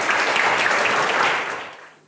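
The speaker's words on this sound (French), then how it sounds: "Veuillez applaudir Isabella." Audience applause for a speaker named Isabella at a solo talk event, a dense steady wash of clapping that holds strong then fades out over the last half second.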